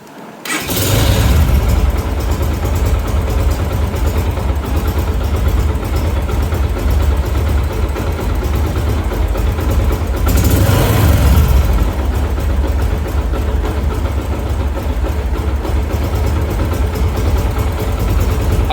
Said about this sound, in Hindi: ابھی بائک کو سٹارٹ کر کے دیکھتے ہیں۔